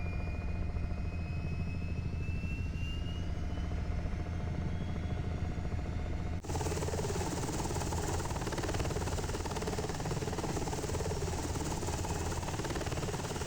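A UH-60 Black Hawk helicopter flying near a dam in a flight simulator, a steady droning engine and rotor hum that turns brighter and harsher partway through, continuous and without talk.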